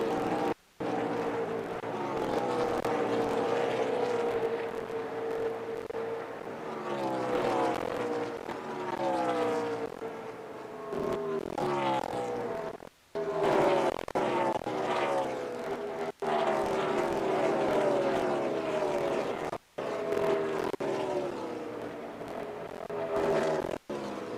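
Stock cars race at the Charlotte 600, a loud, continuous engine drone that rises and falls in pitch as the cars pass by in repeated waves, with brief breaks between passes.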